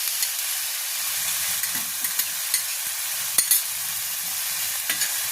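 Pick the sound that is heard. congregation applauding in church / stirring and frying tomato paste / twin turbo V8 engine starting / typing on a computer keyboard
stirring and frying tomato paste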